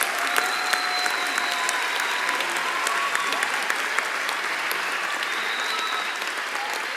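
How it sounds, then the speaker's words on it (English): Graduation ceremony crowd at a Texas high school giving a long, steady round of applause, a dense even wash of many hands clapping that stays level throughout with scattered voices beneath. "Please give these students a round of applause."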